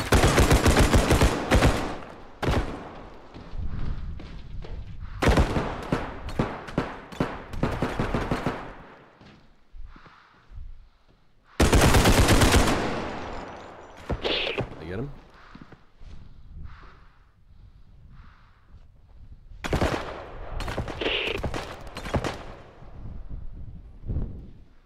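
Bursts of gunfire from the realistic shooter game Bodycam come in several loud, dense volleys with quieter gaps between them, and a person talks over and between the shots.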